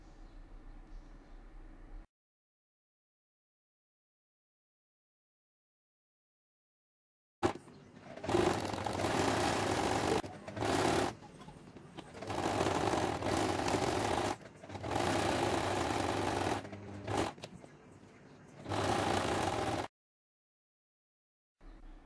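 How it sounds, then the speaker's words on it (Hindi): A sewing machine stitching closed a gap in a niqab, running in several bursts of steady whirring mechanical hum separated by short pauses, with near silence at the start and end. "सबसे पहले हमने इस गैप को सिलाई के ज़रिए बंद करना है इसके लिए यहाँ से एंड तक सिलाई कर लेंगे"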